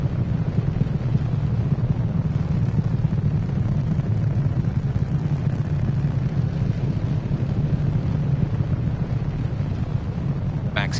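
Simulated rocket engines throttling down before max Q during a Starlink-18 launch recreated in Kerbal Space Program, a steady loud low roar with a windy rumble running unbroken throughout, no speech over it.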